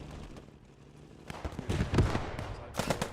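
Sharp gunfire cracks in a team-based war video game match, a few loud shots clustered near the end after a quieter stretch.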